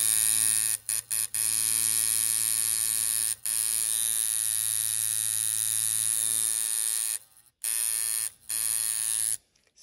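A Mustang coil tattoo machine runs with a loud, steady electric buzz, cutting out briefly several times as it is switched off and on, with no talking.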